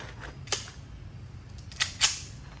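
A Sarsilmaz K-12 Sport shotgun fires at a plate target 15 to 18 meters away outdoors, with sharp distant-sounding reports, the loudest near the end, over a steady low background rumble.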